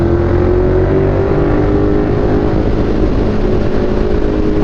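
KTM 1390 R Evo motorcycle cruising steadily in fifth gear around 4200 rpm at about 100 km/h, a close, loud, even engine drone with a steady low hum and wind rush, no talking.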